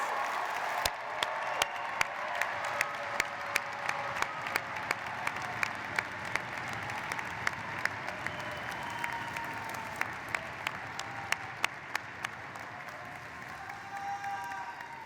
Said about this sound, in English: Let's have one more round of applause for all of our graduates today.